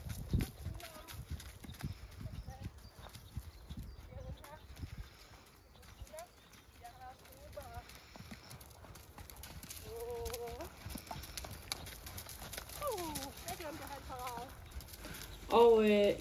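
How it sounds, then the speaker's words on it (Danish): A horse trots during bitless dressage, its hooves clip-clopping in a steady rhythm at moderate distance, while people talk quietly and birds chirp faintly in the background. "Jeg har en hest, der bouncer i traven."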